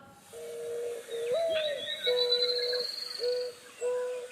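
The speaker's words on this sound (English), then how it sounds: "mourning doves." Mourning doves cooing in a series of soft, hollow, drawn-out calls, one swelling note followed by steady low coos with short pauses, fairly close, with a faint high chirp in the background.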